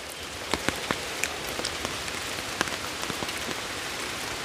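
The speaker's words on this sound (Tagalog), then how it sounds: "Ganito umuulan" Rain falls steadily in a mountain forest, a dense even hiss broken by scattered close drips and patters landing on nearby surfaces.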